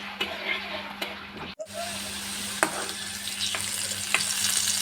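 Potatoes frying in soybean oil in a hot kadai, a steady close sizzle with a brief break, then continuous crackling and occasional scrape of a stirring spoon.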